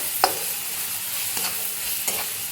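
Spice mixture stirred in a pan, a soft background sizzle broken by three distinct scraping strokes of a spoon against the metal, close and spaced apart.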